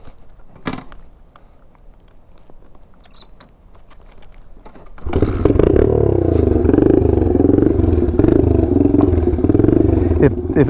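A little dirt bike starts off, its small engine buzzing loud and close after a quieter stretch of clattering handling noise, holding a steady revving drone through the end.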